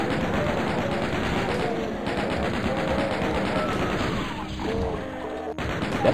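Rapid, relentless chain gun fire in the video game Doom, a dense continuous stream of loud shots with crashing impacts throughout, pausing briefly near the end before resuming.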